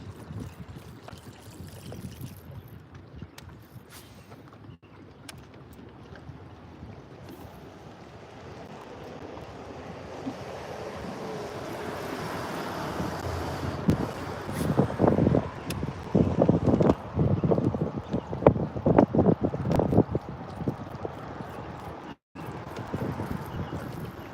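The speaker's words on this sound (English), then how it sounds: "It's windy here, guys." Steady wind rumbles and buffets outdoors while bass fishing, building louder with gusty bursts hitting the microphone toward the end.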